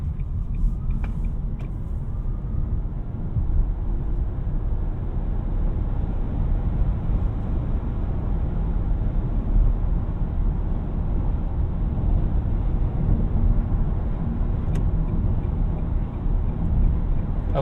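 A 2018 Nissan Leaf SV electric car pulling away from a stop, heard from inside the cabin as a steady low road-and-motor rumble with a faint high whine, no talking.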